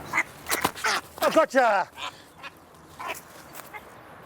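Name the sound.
mother duck quacking while being caught by hand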